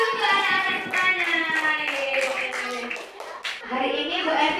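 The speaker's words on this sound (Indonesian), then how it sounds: "Tepuk tangan untuk anak-anak semuanya" Children clap together in a classroom, a brisk patter of many small hands with children's voices chattering loudly over and through it the whole time.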